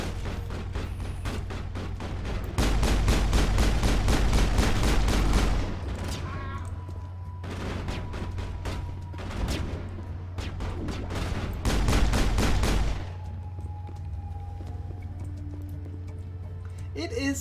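Rapid bursts of gunfire from the video game Mass Effect, loud repeated volleys in two long stretches with quieter shots between, over a steady low hum with speech mixed in.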